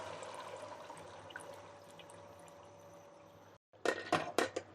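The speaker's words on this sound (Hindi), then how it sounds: "हम यखनी शामिल करेंगे।" Beef yakhni broth is poured into a cooking pot, a soft steady liquid rush with a hiss from the hot pot, then a few louder splashes and clunks near the end, with no talking.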